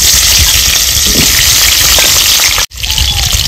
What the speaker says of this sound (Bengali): দিয়ে দেবো কেটে রাখা আলু টুকরোগুলো, ভেজে নেব